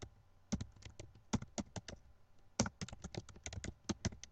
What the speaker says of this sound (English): when I actually get to typing my essay